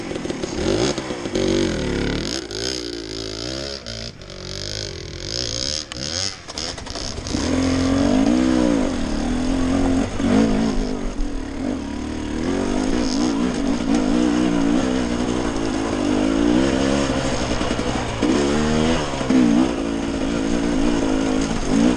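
A dirt bike climbs a mountainside, its engine loud and close, revving and labouring with shifting pitch; the sound grows steadier and stronger after the first few seconds and runs on without a break.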